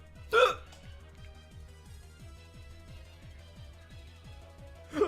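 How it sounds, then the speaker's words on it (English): A person's loud hiccups ring out twice, one near the start and another at the end, each sharp and brief, with a steady rhythmic low pulsing underneath between them. "Also, I have hiccups now, so that should be fun."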